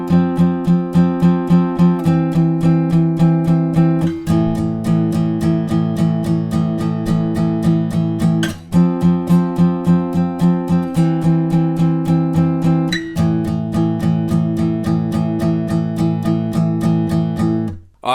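The guitar riff, played alone with a steady, fast picked rhythm of repeated muted notes. A clear, loud pattern repeats throughout with no voices.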